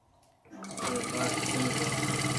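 A sewing machine back stitching while piecing a quilt row starts up after a quiet moment and settles into a steady, close, fast whirring drone with a rapid needle rhythm that carries on to the end.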